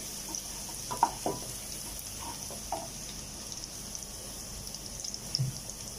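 Ingredients sautéing in a pan for spicy spaghetti, a steady low sizzle with occasional faint stirring clinks, moderately close.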